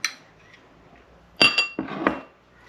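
A knife spreads spicy mayonnaise onto crusty bread with a few sharp clinks and scrapes against the bread and plate, arriving in short bursts between quiet pauses.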